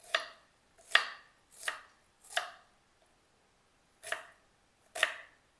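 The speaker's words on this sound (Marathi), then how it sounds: "मी आता इथे कांदा कापून घेते। कांदा बारीक बारीक कापायचा।" A knife chops onion finely on a board for a puffed rice breakfast, six crisp separate thuds spaced roughly a second apart with a brief pause in the middle, close and clear with no talking.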